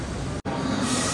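Mumbai Metro Line 3 underground train, an eight-car Aqua Line metro between JVLR and BKC, gives a steady loud rumble of wheels and motors inside the tunnel with a brief dropout partway through.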